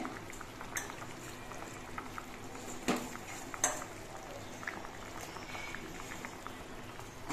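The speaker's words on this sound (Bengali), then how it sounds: "এবার এর মধ্যে মাছগুলো দিয়ে দিচ্ছি" Bata fish slipped into a simmering home-style curry with boiled potatoes; steady low bubbling fills the background, with a few brief splashes and clinks standing out.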